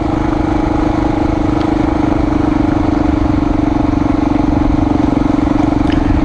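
A Honda XR400R dirt bike's single engine drones loudly and steadily while being ridden through sand, a constant close-up thrum with no pauses.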